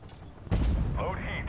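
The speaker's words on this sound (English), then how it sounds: "You're going to see me fire off quite a few blind shots" A tank cannon in Armored Warfare lets off a single heavy blast partway through, followed by a rumbling tail and a whining mechanical sound of the gun or turret, with someone talking faintly underneath.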